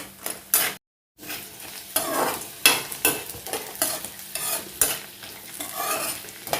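Puffed rice snack frying and being stirred in a pan at home, with repeated scraping strokes of a utensil over a steady sizzle, a brief silent gap near the start, no voices.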